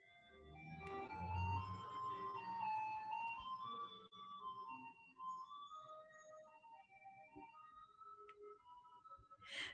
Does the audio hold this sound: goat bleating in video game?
no